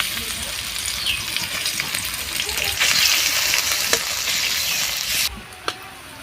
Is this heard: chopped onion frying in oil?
yes